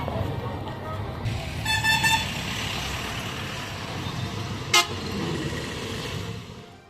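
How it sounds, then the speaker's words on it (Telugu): Vehicle horns toot amid a highway traffic jam near Inamguda on the Hyderabad–Vijayawada road after a lorry overturned: a short burst of honks early, then one sharp blast midway over a steady rumble of idling traffic. "హైదరాబాద్ విజయవాడ హైవేపై భారీగా ట్రాఫిక్ జామ్ అయింది."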